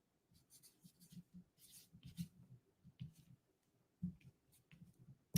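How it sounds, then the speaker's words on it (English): A Sharpie marker squeaks and scratches across paper while signing an autograph, giving short quiet strokes with brief pauses between them, close and faint. "Sign it in the top right corner."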